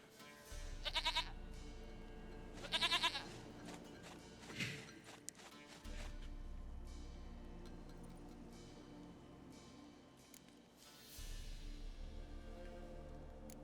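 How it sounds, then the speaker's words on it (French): A goat bleats in The Witcher 3 video game, a few sharp, nasal bleats standing out over a steady low game ambience, with footsteps and other soft sounds between them and no talking. "Une chèvre à moi. Gentille, douce Biquette."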